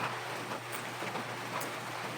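Heavy rain during a typhoon, a steady, dense hiss of falling water that fills the short clip at an even, loud level, with no voices.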